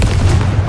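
A brief, deep boom from a Confringo blasting spell in Hogwarts Legacy, a single loud low-heavy burst that rumbles for under a second.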